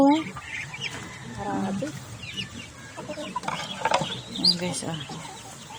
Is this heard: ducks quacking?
yes